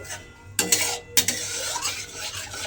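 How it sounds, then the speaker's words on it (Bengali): Tamarind paste being stirred into a sesame ambal in a pan: a few close scraping strokes and clinks of a spoon against the metal pan, interrupted by short gaps, over a low background hum. "তেঁতুলের কাইটা দিয়েও কিন্তু খুব ভালোভাবে একটু এইভাবে মিশিয়ে নেব"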